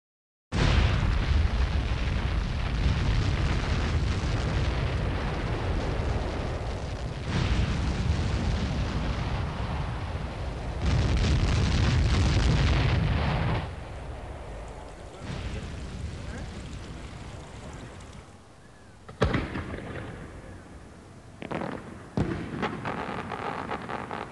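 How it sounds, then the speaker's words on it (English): Lava explosions burst from the crater of an erupting volcano as loud, rumbling booms with sharp cracking blasts, swelling and fading in waves while a voice speaks over them. "Emerging from the crater of the volcano, amid a shimmer of lava explosions"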